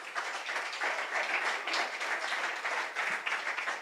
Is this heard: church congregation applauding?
yes